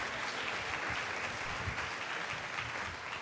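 Sustained applause from a conference audience, a dense, steady clatter of many hands clapping at an even level throughout with no voices on top.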